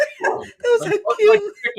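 A person imitates a crow mimicking a dog, giving short barking yips and whimpers in a voice over about two seconds, delivered close and loud amid lively conversation.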